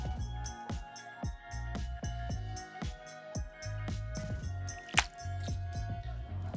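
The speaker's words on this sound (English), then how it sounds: "we want to peel these off and squeeze them or toss it into a pot" Roasted garlic cloves are squeezed out of their papery skins by hand, a close, quiet series of wet squishes and small sticky pops in an irregular rhythm, with one sharper click near the end and no talking.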